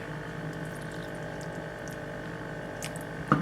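Water poured from a can or jug onto a houseplant sitting on a washing machine in a corner indoors, a faint steady trickle and splash with a brief louder splash near the end.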